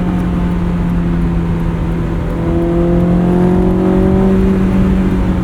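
A Honda S2000 sports car driving and accelerating, a steady engine drone with a rising tone as it pulls harder midway, heard from inside the cabin at a constant, fairly loud level with no talking.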